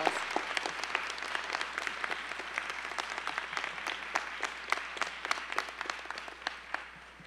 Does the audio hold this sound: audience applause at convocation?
yes